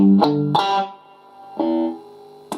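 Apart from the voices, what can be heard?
palm muted electric guitar, riff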